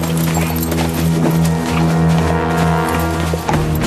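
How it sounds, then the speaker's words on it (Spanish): Horse hooves clop in a dense, rapid rhythm of galloping beneath loud, sustained background music, with no break through the whole stretch. "¡Mi caballo!"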